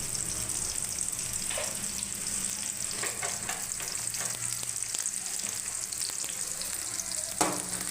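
Cinnamon and cloves frying in hot oil, a continuous sizzle with scattered stirring clicks and scrapes at close range, no talking.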